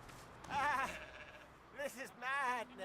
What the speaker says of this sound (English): A shocked sheep.